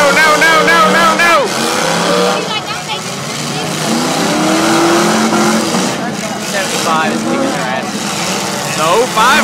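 Demolition derby cars at a county fair rev hard, with engine roars, tire squeals and skidding close by, as people talk loudly over the racket throughout.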